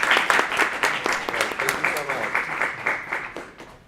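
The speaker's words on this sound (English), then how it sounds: "Can we get a round of applause?" An audience at a panel symposium applauds steadily, many hands clapping in a dense, close patter that thins slightly toward the end. A voice can be heard speaking faintly over the applause.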